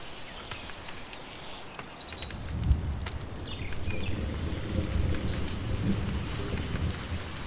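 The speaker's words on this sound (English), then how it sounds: "Thunderstorm, everybody." Thunderstorm weather in the survival video game Stranded: Alien Dawn: steady rain hiss with a low rumble of thunder swelling near the middle and continuing under it, fairly quiet and without speech.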